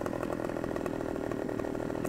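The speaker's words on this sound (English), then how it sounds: "Get the chainsaw out. Is this the Husqvarna?" A Husqvarna chainsaw in Farming Simulator 2015 runs steadily and loudly the whole time, a constant buzzing engine whine with no pauses and no talking.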